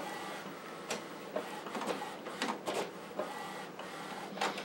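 An Epson EcoTank 8550 printer runs a head alignment, giving a steady mechanical whir broken by irregular clicks and short bursts of print-head carriage motion, close and with no voices.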